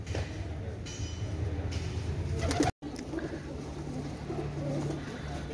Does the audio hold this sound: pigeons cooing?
yes